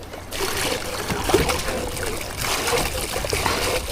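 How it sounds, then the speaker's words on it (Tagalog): Water splashing and trickling as rainwater is bailed out of a small fishing boat by the shore, a continuous sloshing with scoops of water tossed out, fairly close and with no talking. "Limasan na natin ang ating bangka. Ayan, dami na ng tubig."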